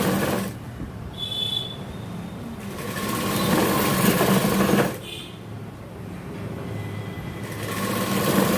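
A sewing machine runs in bursts while stitching a double seam along a jacket collar, with a steady whirring hum rising and dropping between short pauses, close and fairly quiet.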